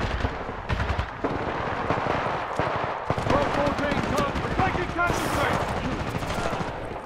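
Gunfire in the video game Titanfall 2 multiplayer, with rapid, dense automatic bursts and heavier blasts firing almost continuously, while voices shout over the shooting.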